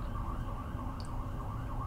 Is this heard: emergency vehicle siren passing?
yes